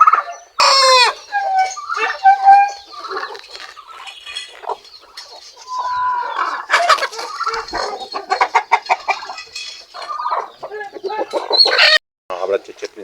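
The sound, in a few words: chickens clucking and rooster crowing on a farm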